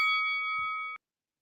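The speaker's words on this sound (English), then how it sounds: "If you are watching on YouTube, you might as well hit that notification bell." A notification bell sound effect rings once, a bright bell-like ding holding its tone for about a second before cutting off abruptly into silence.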